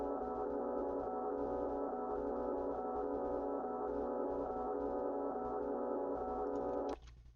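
A beat counter-melody run through the ShaperBox 2 Cool Beat 2 preset, a steady, faint sustained harmonic tone with a subtle pulsing texture that stops abruptly near the end, with no talking.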